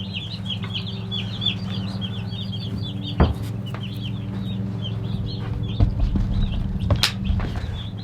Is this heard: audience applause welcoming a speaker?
no